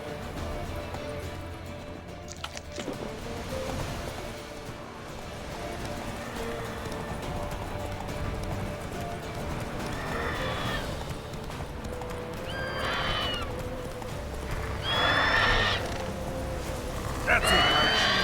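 Roach, the horse in The Witcher 3, gallops with steady rhythmic hoofbeats and lets out several loud neighs and whinnies toward the end. A voice speaks briefly.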